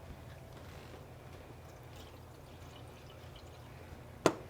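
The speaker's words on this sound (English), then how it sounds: "just gotta put the water in there." Water poured steadily into a container inside a general store, a soft continuous wash with a sharp clack near the end, no talking.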